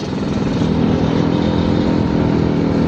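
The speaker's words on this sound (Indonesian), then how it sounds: "Gue ini naik Vespa guys, pelan-pelan jadinya, nggak bisa kenceng-kenceng." A Vespa scooter rides slowly up a hill road at Gunung Anjing, its engine a loud, steady, close buzzing drone with rough wind rumble throughout.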